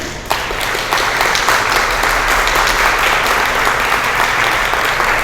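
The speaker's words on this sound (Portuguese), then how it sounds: "Agora você tem que aplaudir Jesus." A congregation at a religious service bursts into sustained applause, a dense, loud clapping that swells after a brief onset and continues steadily, with no speech over it.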